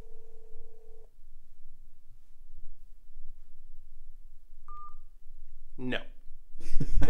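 Telephone keypad dialing: a short DTMF tone pair sounds after a quiet stretch, following an earlier steady tone, with background voices and bursts of noise near the end.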